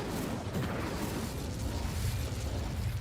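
The Incendio fire spell is cast in Hogwarts Legacy, a rumbling burst of flame and crackling blasts that stays loud and dense with heavy low-end roar throughout.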